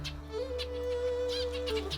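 Quails and finches in their new home call over a steady low hum, including a sustained whistled note and scattered chirps, moderately loud and continuous.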